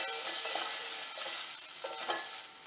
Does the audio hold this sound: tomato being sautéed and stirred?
yes